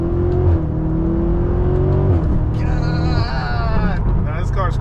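A BMW M5 engine hums steadily from inside the cabin while driving, a smooth, restrained tone that shifts pitch as the car changes speed, with a high whine and people talking over it.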